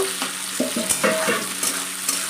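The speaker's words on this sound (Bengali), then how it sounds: "টমেটো কুচিগুলো দিয়ে দেবো, দিয়ে লাল লাল করে আমি ভেজে নেব, নেড়ে চেড়ে নেবো" Chopped tomatoes frying in a pan for a chicken giblet dish, a close hissing sizzle punctuated by several quick scraping stirs of a spatula, with no one speaking.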